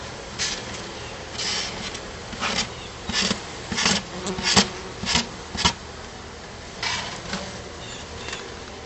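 A large swarm of honey bees buzzing around their hive in a garden, a continuous close drone with repeated louder swells as bees fly past, no voices.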